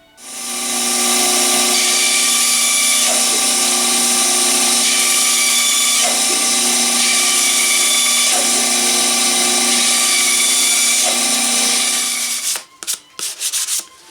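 A bandsaw runs with a loud, steady whine while cutting wood, continuing for about twelve seconds before spinning down with a few clattering knocks.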